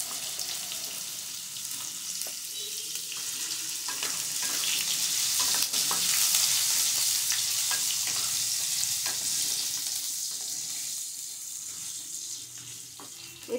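Potatoes and carrots sizzle steadily in a frying pan for a vegetarian spinach curry, a continuous bright hiss with occasional stirring scrapes and clinks, swelling slightly in the middle and staying close and fairly loud throughout, with no talking.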